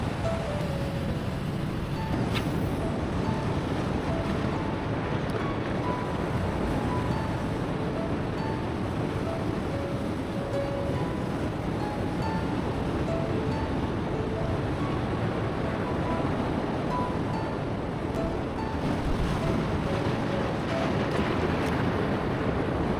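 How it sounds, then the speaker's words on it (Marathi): Large evening waves rolling onto a seashore at a fishing spot, a continuous low surf roar with wind buffeting the microphone, steady and moderately distant throughout. "समुद्राला मोठमोठ्या लाटा आता उचलायला सुरुवात झालेली आहे"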